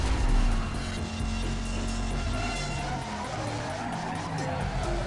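A car skids in the Need for Speed: Most Wanted racing game, a steady tire screech under a roaring engine and game noise, with someone talking over it for most of the stretch.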